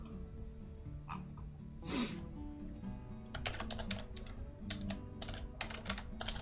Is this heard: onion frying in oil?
no